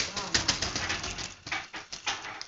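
A pet bird, apparently a budgerigar, makes quick scratchy chirps and fluttering sounds close by, in irregular bursts, with a person's voice mixed in.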